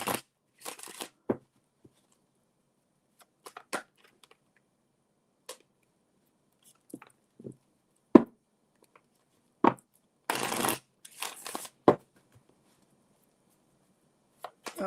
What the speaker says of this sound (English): I gotta shuffle these cards anyway.